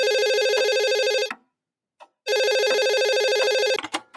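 A telephone rings with two loud electronic bursts separated by a short silence, close and clear, the second ring cut off abruptly.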